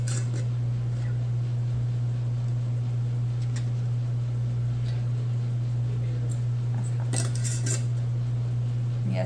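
Metal lids and rings clink against warm glass jars of homemade broth, scattered light taps and scrapes over a constant low electrical hum.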